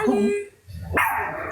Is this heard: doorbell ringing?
no